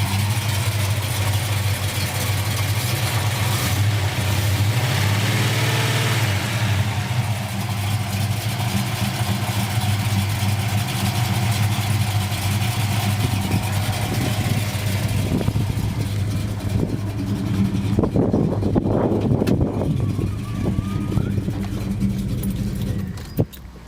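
A Dodge Charger built as a General Lee replica idles with a deep, steady rumble close by, running on alone for about twenty seconds with faint incidental clinks near the end.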